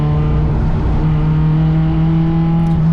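Race car engine drones loud and steady at The Bend circuit, a sustained in-car roar with strong harmonic hum holding pitch throughout, no voices.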